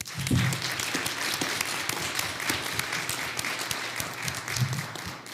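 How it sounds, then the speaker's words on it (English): Steady audience applause at a Raleigh candidate forum hosted by PowerUp NC, an even, moderately distant crowd clapping throughout with a faint voice underneath. "Let's give her another hand."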